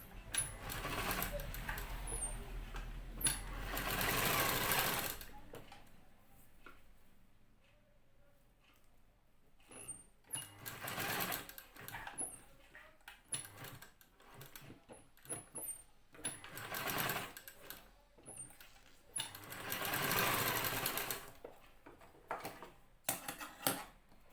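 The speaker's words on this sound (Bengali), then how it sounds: "এইভাবে করে আমি এটা সেলাই করে নিলাম" A sewing machine stitches a homemade cloth mask in several loud whirring runs separated by quieter pauses with small clicks and handling noises, close by.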